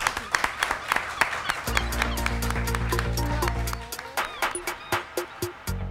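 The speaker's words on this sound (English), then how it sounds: "Give her a round of applause." A live audience at a Sunderland mental health event claps in sharp, scattered bursts, with a loud low rumble partway through and a few individual claps standing out near the end.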